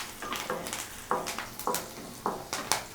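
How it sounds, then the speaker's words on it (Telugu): Sliced onion and curry leaves fry in a pan with a steady close sizzle, broken by rhythmic scraping stirs roughly every half second. "ఈ ఉల్లిపాయ ఇలా వేగిన తర్వాత దీంట్లో ఒక రెమ్మ కరివేపాకు వేసుకొని కొంచెం ఫ్రై చేసి"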